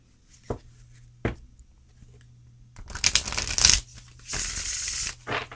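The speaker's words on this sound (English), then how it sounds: "I love shuffling cards, in case you didn't know." A tarot card deck being shuffled by hand: a couple of sharp single taps, then bursts of riffling and rustling card noise, close and fairly quiet, with no talking.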